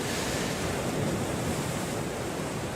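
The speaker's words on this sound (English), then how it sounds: "There's water running in all directions out there. Waves coming from different directions. Lots of wind" Ocean surf at a beach during a surf contest rolls in under strong, almost directly onshore wind, a steady, dense roar of breaking waves and gusting air with no voices.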